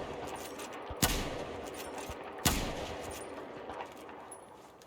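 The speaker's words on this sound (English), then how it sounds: "you can actually shoot out some of the TV screen here" Gunfire in Battlefield 4 on the Sunken Dragon map, two sharp separate shots about a second and a half apart, ringing out loud over a steady background ambience as TV screens are shot out.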